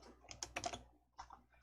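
Keys tapped on a computer keyboard to save a document in a word processor, a short quiet cluster of clicks followed by one more press, with no talking.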